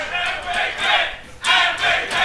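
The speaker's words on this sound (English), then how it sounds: "The crowd goes wild." Esports crowd at a university League of Legends match, York versus Lancaster, roaring and cheering wildly in loud surging bursts that swell, dip briefly, then erupt again.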